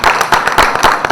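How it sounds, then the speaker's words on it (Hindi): Audience applause for Sara at the trailer launch of the Bhojpuri film Ghulami, a brief, loud and close burst of dense clapping with sharp, rapid claps and no talking. "सारा जी के लिए तालियां"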